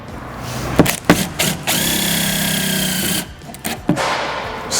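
Power drill driving a screw into an insulated Transit van door liner, a short burst of whirring after a few clicks and taps, with a second brief spin near the end, close and fairly loud.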